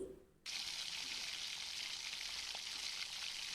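Gulab jamun dough balls frying in oil, a quiet start then a sudden, steady hiss of bubbling oil that stays even and close until the end.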